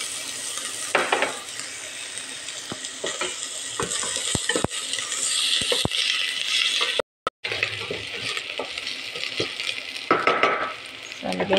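Sliced onions sizzle steadily in a hot pan, with a constant frying hiss, occasional scrapes and clinks of a spoon stirring, and a brief cut partway through.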